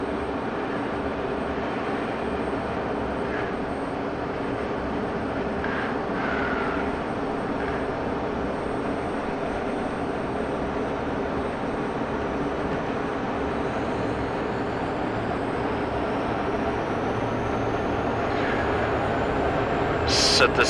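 Aircraft engine in the DCS World flight simulator drones steadily and loudly throughout, a continuous rumbling roar that swells slightly toward the end.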